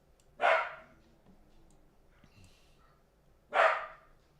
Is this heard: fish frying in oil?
no